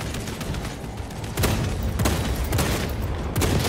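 Gunfire in the video game Space Marine 2 rattles out in dense, continuous volleys with a few sharper shots standing out, loud and without speech.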